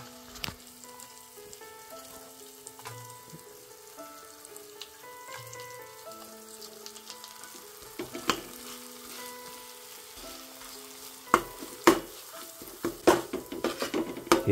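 Onion-coconut masala paste fries in a pan and is stirred, giving a soft sizzle under a soft melodic tone. Metallic clinks and scrapes of the spoon against the pan get louder and more frequent toward the end.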